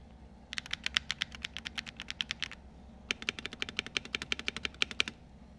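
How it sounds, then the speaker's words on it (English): Fast, crisp keystrokes on an EWEADN DK68 HE Hall-effect keyboard, close and clear, typed in two steady bursts with a short pause between them; no talking. "let's do a quick sound test of the keyboard"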